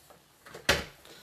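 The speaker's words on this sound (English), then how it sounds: "close the door" A door shuts once with a single short thump, close by and indoors, against faint room noise.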